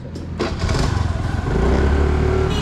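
A small scooter engine struggling to pull putters roughly with an uneven throbbing, then rises to a strained, steady drone up close.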